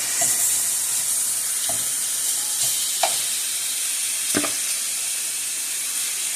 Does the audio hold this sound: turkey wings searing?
yes